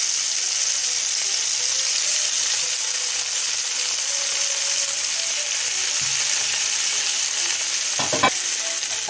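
Chicken roast with potatoes sizzles in a covered pot over low heat, a steady close frying hiss with a soft scrape or two of a utensil late on and no talking.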